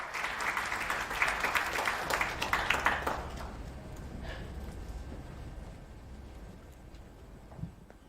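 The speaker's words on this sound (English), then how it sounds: "Let's give Engineer Kalusi a warm round of applause" A conference audience at an IEC-AFRC anniversary event gives a round of applause for an engineer, a dense burst of many hands that fades out after about three seconds, leaving a quiet room.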